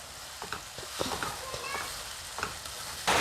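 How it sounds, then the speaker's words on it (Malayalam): Onions sautéing with salt in a pan for a North Indian rajma dish, a steady soft sizzle broken by several scraping stirs of a spoon, with a brighter burst of frying noise at the very end. "സവോള നന്നായിട്ട് വഴന്നു വന്നിട്ടുണ്ട്"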